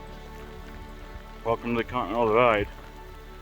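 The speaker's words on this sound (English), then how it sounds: "It's currently hailing / thunder snow." Hail patters steadily on the ground during a thunder snow storm on a Continental Divide hike, a soft continuous rattle that runs under a voice talking in the middle.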